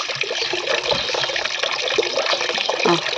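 Water pours steadily from a pipe into a mixing container for a homemade plant feed, a loud constant rushing gush close by with no talk.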